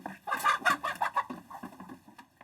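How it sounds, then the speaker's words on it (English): Chickens clucking on a small farm, a rapid run of close, fairly loud clucks and squawks that tails off quieter over a couple of seconds, with no talking. "So this is the chicken."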